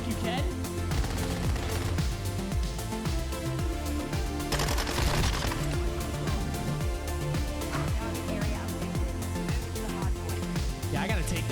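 Bison submachine gun firing in Modern Warfare 2, dense bursts of rapid gunfire with impacts and game effects running continuously and loud, mixed with in-game sound and talk.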